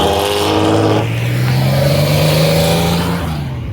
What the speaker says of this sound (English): Oh, bro, this Taycan's about to fucking rip.